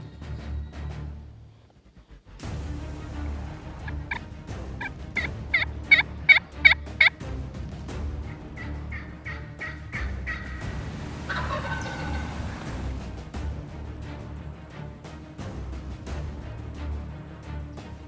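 A wild turkey roosted in a tree in Tennessee gobbles in loud, rapid rattling bursts at moderate distance, with a longer gobble following among quieter outdoor ambience and no talk.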